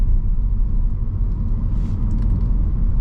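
A 2023 Audi A4 45 Prestige with sport suspension on summer tires takes a turn fast, its steady low road rumble and engine drone filling the cabin, with faint tire noise rising briefly midway.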